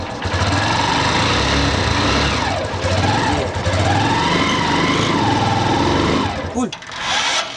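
A motorcycle-sidecar tricycle engine pulls in first gear in the Philippines, a loud steady buzzing drone with rising and falling revs as it accelerates, continuous and close throughout.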